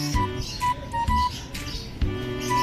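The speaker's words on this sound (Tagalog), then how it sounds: "Ngayon, datingan na ng ibon." Racing pigeons arriving home to a loft during a fun race in Lopez, Quezon, with repeated bird chirps and calls over a steady background, marked by a few sharp knocks.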